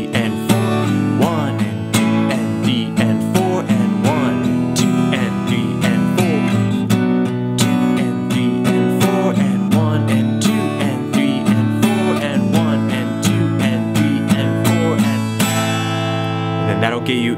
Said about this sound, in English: Now we're moving into the bridge section where we're gonna start strumming.